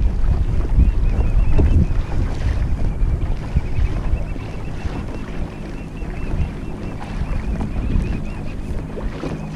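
Motorboat passing near a Hobie Mirage Passport 10.5 kayak on open water, a loud low engine rumble and water wash mixed with heavy wind buffeting on the microphone, swelling and then easing.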